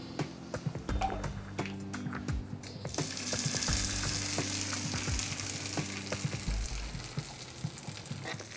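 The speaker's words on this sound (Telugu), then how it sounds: "ఇప్పుడు ఈ పోపుని చట్నీలో వేసుకొని కలుపుకుందాము." Hot tadka of curry leaves in oil poured into cucumber chutney, giving a sudden burst of loud, close sizzling that keeps crackling while spoon clinks and stirring scrapes come through, with no voices.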